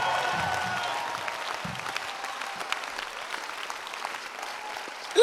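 Congregation clapping during a church sermon, a steady wash of applause that slowly fades, with a brief louder sound at the very end.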